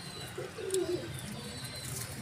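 Soft cooing of a Ferozepuri pigeon, a low throaty burble repeated briefly over a quiet background.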